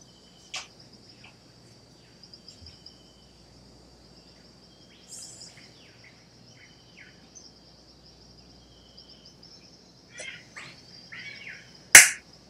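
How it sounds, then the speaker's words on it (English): A single sharp hand clap cuts through near the end, loud and close, after a long stretch of quiet background with faint scattered chirps, heard during a livestream of The Golf Club 2 golf game. "there's a hand clap"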